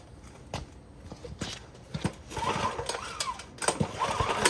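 A stretched old-school Doodle Bug mini bike with a swapped engine cranks through a few sputtering pulls, then catches into a rough, uneven small-engine putter close by.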